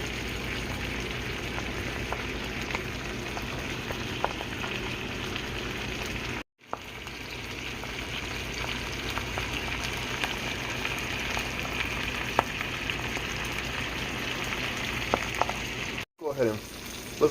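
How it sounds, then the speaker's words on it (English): Trout frying in a pan, a steady close sizzle and crackle that holds nearly unbroken throughout, with two brief dropouts and a few sharp pops. "it's already cooking on the bottom. But I'm gonna let that fry up real good."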